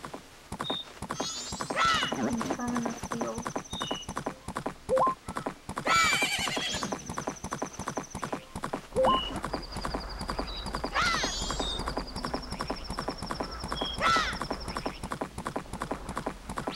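A horse in Majora's Mask gallops with a rapid, rhythmic clip-clop of hooves and lets out several shrill whinnies, set against game ambience and chimes.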